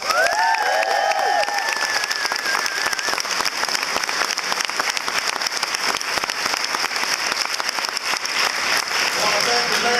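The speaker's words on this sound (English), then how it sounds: "Give her a big round of applause." Large crowd at a political speech applauding, a dense, steady wash of clapping filling the whole stretch, with brief cheering near the start.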